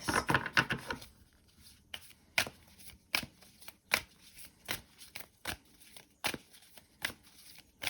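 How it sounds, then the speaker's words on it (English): Oracle cards handled for a tarot reading: a quick riffle of shuffling at the start, then a series of separate crisp card snaps and slides at irregular intervals, close and fairly quiet. "So I'm going to pull out some oracle cards for you, Sagittarius."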